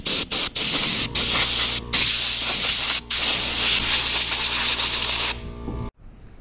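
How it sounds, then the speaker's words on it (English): Compressed air from an air compressor blasts metal flakes off a school bus surface in loud, steady hissing bursts with brief gaps between them, ending in a sputter and then silence. "Now I want to clean up the whole surface from all these metal flakes, so I'm just going to use the air compressor."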